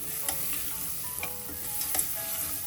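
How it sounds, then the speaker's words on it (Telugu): Ivy gourd fries quietly in oil over low heat with a soft, steady sizzle, broken by occasional light stirring scrapes. "ఎందుకంటే దొండకాయ కొంచెం నూనెలో వేగాలి"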